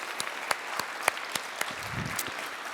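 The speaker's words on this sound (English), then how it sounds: "So can we just give them a round of applause first?" An audience at a city opera house gives a round of applause: sparse, separate claps ring out one by one at moderate distance rather than a full ovation, fairly quiet overall.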